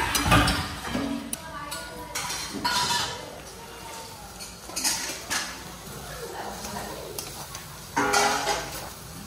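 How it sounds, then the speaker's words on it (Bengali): Potato and boiled peas fry with spices in a pan, heard as repeated metal spatula scrapes and clinks against the pot at an uneven rhythm over a low sizzle, with faint background voices. "মশলার সঙ্গে আলু আর সেদ্ধ মটর ভালো করে একটু কষে নিচ্ছি"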